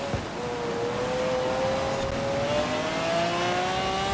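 A Lamborghini Aventador J engine in the racing game Forza Horizon 4 drones steadily while the revs climb smoothly under acceleration, heard close and continuous.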